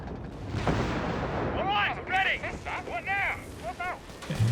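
Artillery fire in the Company of Heroes 3 strategy game, during a 3v3 match: rumbling booms and distant blasts roll under continuous commentary.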